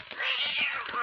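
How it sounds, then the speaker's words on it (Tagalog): Cats fighting, a single drawn-out yowling meow that wavers in pitch for about a second, close and fairly loud. "Yung mga mandirigma mga pusa"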